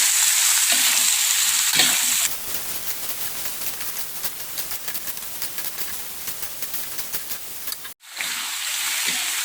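Jackfruit and vegetables sizzle and crackle in a hot pan while a utensil scrapes and stirs them in a quick, repeated rhythm. There is a brief pause near the end.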